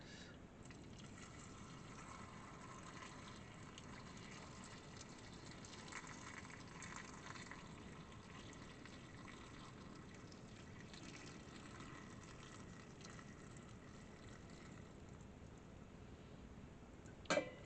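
Heated pickling mixture poured from a pot into a jar for preserving, a steady liquid gush and fill running continuously at close range, fairly quiet, ending with a brief knock of glass.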